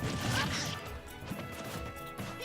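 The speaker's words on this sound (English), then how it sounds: "Raw F smashes, just throwing him out there." A Super Smash Bros. Ultimate match with Lucina throwing a raw forward smash gives a loud crashing hit and swish over busy game sounds and crowd noise, fairly dense throughout.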